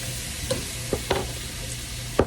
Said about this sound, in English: now you're gonna go ahead and add in your 6 chopped Roma tomatoes